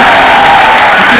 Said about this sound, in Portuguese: Uma salva de palmas pro Tucano